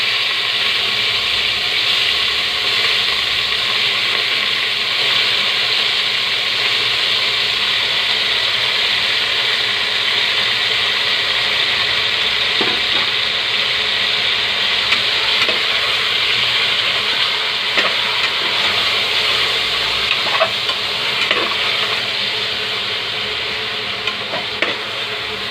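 Chicken shoulder sautés loudly with onion, garlic and ginger in a pan for tinola, a steady dense sizzle close up with occasional scraping stirs.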